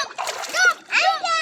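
Water splashes as someone dunks in a village pond, with short sloshing bursts under a voice.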